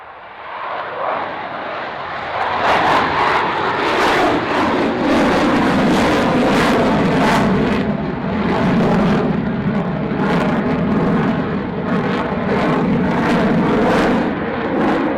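A military jet roars down runway 27 at RAF Fairford, taking off for an airshow display; the loud engine noise builds and sustains strongly with rumbling, crackling thrust, close and dominant throughout.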